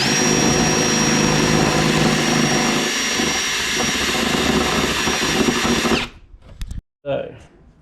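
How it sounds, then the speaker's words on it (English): A power drill bores through a fibreglass motorcycle fairing, a loud steady whine that holds for about six seconds and then cuts off, followed by brief scraping and handling noises. "So straight through. Yeah, I can actually use a driller bit."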